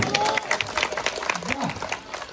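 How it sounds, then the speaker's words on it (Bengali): A group clapping at an outdoor picnic at Nahar Garden in Manikganj, a short ragged burst of applause mixed with voices and a rising whistle-like tone, lasting a couple of seconds. "হাততালি হাততালি,"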